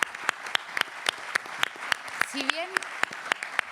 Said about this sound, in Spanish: Para los que pido un fuerte aplauso también